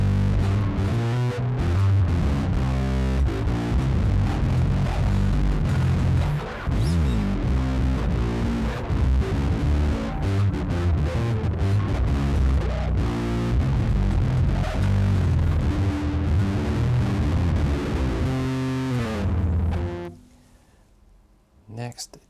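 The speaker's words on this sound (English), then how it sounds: "Now the modern distortion." Electric guitar run through a VVCO Afterlife pedal set to modern distortion: thick, compressed riffing that stays loud and continuous for about twenty seconds, then cuts off into a quiet decaying tail.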